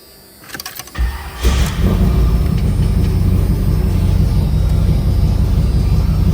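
A 1983 Chevrolet Camaro Z/28 engine cranks briefly, catches and settles into a loud, steady, rumbling idle close by, with no talk over it.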